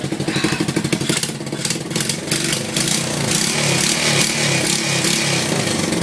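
A 2007 off-brand 125cc ATV engine runs after a cold start following five months of sitting. It begins with a quick, uneven pulsing chug, then settles into a louder, steady buzzing idle close by.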